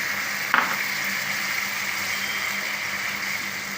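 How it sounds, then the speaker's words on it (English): Vegetables sauté in hot oil in a pan for a vegetable lasagna wrap, giving a steady, close sizzling hiss throughout with one brief clatter near the start. "we need to saute it in an oil"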